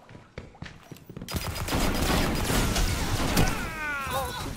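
Rapid bursts of automatic gunfire from a weapon in Destiny 2 start after a few scattered shots, then merge into a dense sustained roar with some whining, metallic tails near the end.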